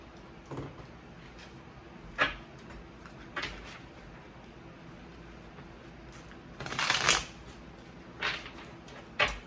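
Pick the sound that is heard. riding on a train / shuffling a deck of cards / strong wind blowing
shuffling a deck of cards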